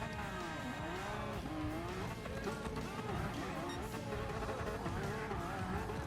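Porsche 911 GT3 RS in Gran Turismo Sport launching into a wheelie, a high buzzing engine wail that rises and dips in pitch as revs climb and shifts come, steady and loud, with a voice talking over it.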